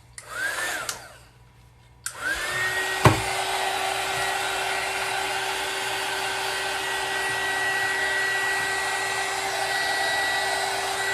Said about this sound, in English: One heat tool coming up.